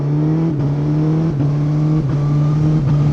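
A 2024 Suzuki GSX-S1000GT motorcycle accelerates hard at half throttle, its engine loud and close. Quick-shifter upshifts cut the rising drone at several points in steady succession, heard from the rider's position on the street.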